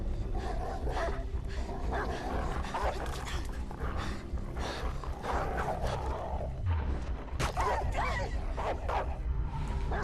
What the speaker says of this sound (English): Sounds of these dogs is really heartbreaking